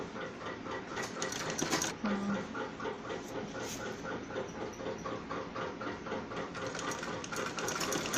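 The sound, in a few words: sewing machine stitching a kurti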